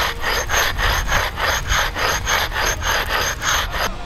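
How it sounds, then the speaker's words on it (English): A rub brick is rubbed back and forth over a ledge to sand it smooth, making a steady, loud, rhythmic scraping rasp of about eight strokes, close up, with no voices. "so you could sand it down to a smoother finish"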